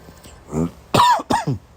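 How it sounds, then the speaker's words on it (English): A person with a cold lets out a short burst of several rough coughs and throat-clearing sounds, close and loud, with no speech. "Excuse me again for all the coughing"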